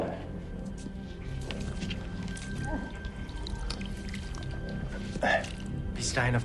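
Water drips and trickles in a tense dramatic scene, with irregular soft splashes under voices and a low musical score.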